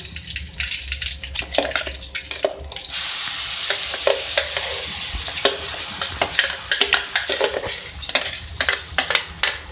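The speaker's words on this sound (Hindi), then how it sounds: "इसी ऑयल में मैं अपना ब्लेंड मसाला ऐड कर रही हूँ" Blended masala frying in hot oil in a karahi after chicken has been removed, a steady loud sizzle that surges around the third second, with frequent spoon scrapes and stirring clicks throughout, close up.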